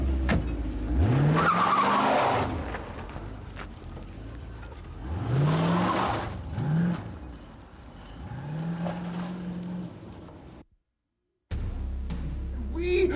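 A car revs and drives with rising engine sweeps and squealing tires, loud and close, alongside some talk, with a brief dropout near the end.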